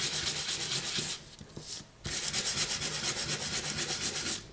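Paper embellishments for a vintage junk journal are distressed by brisk rubbing and sanding, giving a close, rapid scratchy scrubbing with a short pause in the middle before the strokes resume.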